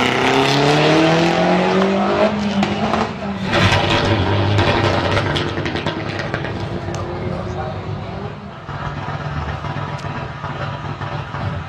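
A Mitsubishi R4 rally car revs hard at a stage start of the Rallye des Grands Fonds, its loud engine climbing through gears and then holding a steady roar, with commentary talk over it.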